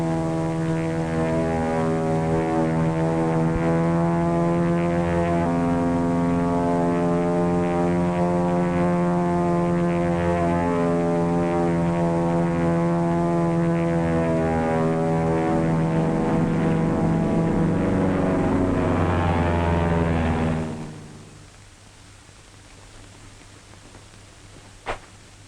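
P-40 propeller fighter plane from an old film, a loud droning engine roar with steady tones holding for about twenty seconds before cutting away to quiet.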